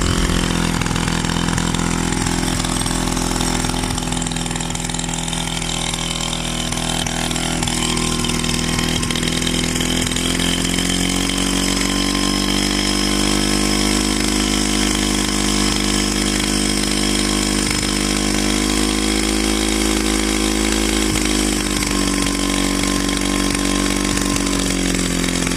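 The small single-cylinder engine of a 1956 Solex 660 moped runs steadily and loudly up close, holding a continuous buzzing drone for the whole stretch.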